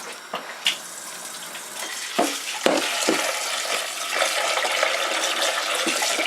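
Goat meat is rinsed and stirred in water, with sloshing and splashing and a few sharp knocks against the bowl. The sound is fairly soft and close.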